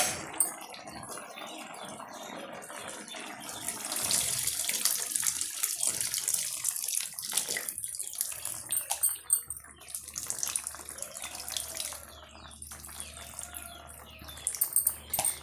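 Soaked tamarind water being strained and poured into a pot for okra tamarind kuzhambu: a steady, close trickle and splash of liquid with no talk, briefly swelling louder in the middle.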